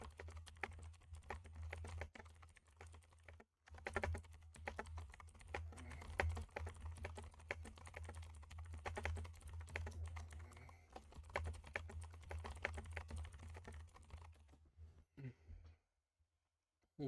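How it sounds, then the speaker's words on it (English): Fingers type on a computer keyboard at normal speed, giving a steady stream of close, soft clicks with a brief pause early on. The keystrokes stop and fall quiet near the end. "it's about normal typing speed"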